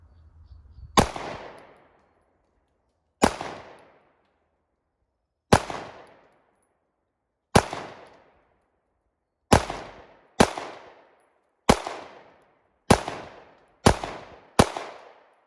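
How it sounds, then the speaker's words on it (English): A Sig Sauer P320 AXG Classic 9mm pistol fired at 7 yards, ten loud, sharp single shots each with a short ringing decay, widely spaced at first and quickening toward the end. "That was the 10 headshots right there."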